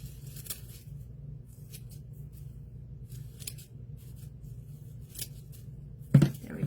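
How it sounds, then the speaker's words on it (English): Fabric scissors snip burlap hair on a primitive scarecrow, a few separate crisp cuts spread across a quiet stretch, with a louder, closer snip near the end. "I'm not sure I really should be using my fabric scissors to cut this stuff with"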